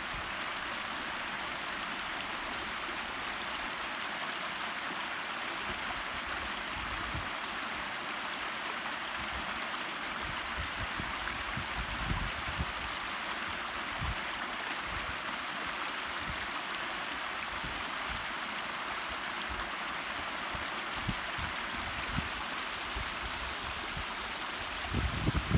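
A backyard waterfall pours steadily, heard up close from a bridge above it: a dense, even rush of water with low splashing churn, continuous and unchanging throughout.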